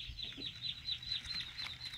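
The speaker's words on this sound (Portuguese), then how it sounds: "Os cachorros brigando com as galinhas." Chickens in a yard clucking in soft, repeated pulses, faint and somewhat distant, with a light high-pitched background hiss and no clear talk.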